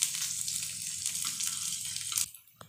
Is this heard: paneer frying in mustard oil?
yes